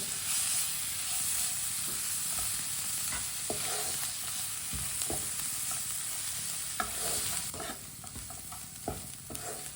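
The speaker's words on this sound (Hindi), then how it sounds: "बारीक कटा हुआ सब्ज धनिया, सब्ज धनिया को भी अच्छी तरह मिक्स कर लेंगे।" Fried spices and finely chopped coriander are stirred in a hot pan while making aloo tikki, a steady close sizzle and fry hiss broken by repeated scraping strokes of the spoon, with no talking.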